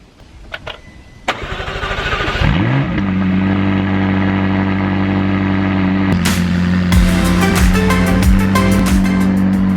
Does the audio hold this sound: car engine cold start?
yes